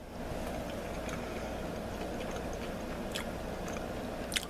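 Someone chews a piece of shrimp banchan, the Korean side dish, with soft moist bites and a few crisp clicks over a steady low background, close and fairly quiet.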